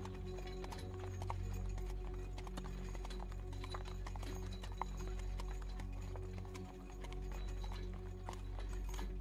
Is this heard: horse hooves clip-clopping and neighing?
yes